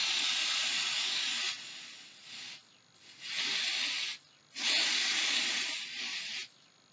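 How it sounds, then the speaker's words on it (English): Several hissing bursts from an aerosol nail dryer spray, each a second or two long with short pauses between, close and fairly loud, no voices. "we are gonna go ahead and just spray it again"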